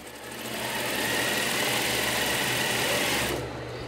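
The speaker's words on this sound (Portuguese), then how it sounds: "O barulho da máquina de costura quebra o silêncio da prisão." A sewing machine in a women's prison runs steadily at speed with a whirring, rattling hum, starting up and stopping abruptly near the end.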